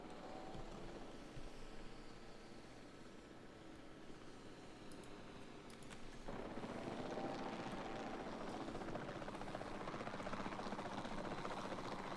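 Steady rotor drone of a helicopter in the video game Jurassic World Evolution 2, with a low engine hum, growing louder and denser about halfway through; no one speaks.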